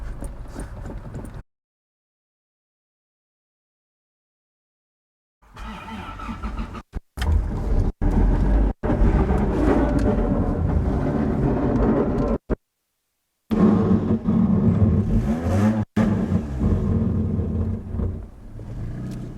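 A crash-damaged Mark 1 Toyota MR2 starting up and driving off, its engine rumbling loudly and unevenly with clunks and rattles, cut by abrupt silent gaps.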